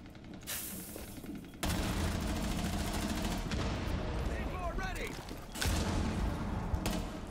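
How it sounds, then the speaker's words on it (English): Rapid gunfire in a first-person shooter match, sustained bursts of automatic fire with loud onsets and a brief lull, close and dense, with voices talking over it. "Oh, Ying's shooting us to the floor."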